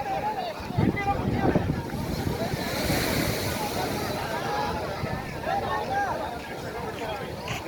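Ocean waves surge and break on the shore at Pithapuram, a loud rushing wash with wind buffeting the microphone and voices talking underneath.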